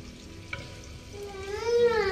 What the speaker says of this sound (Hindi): मैं अभी जिमीकंद को फ्राई कर लेती हूँ